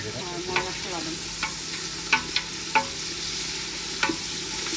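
Masala sizzling in a big cooking pot while being stirred, a steady frying hiss broken by several sharp scrapes and clinks of the spoon at irregular intervals, close and moderately loud without talk.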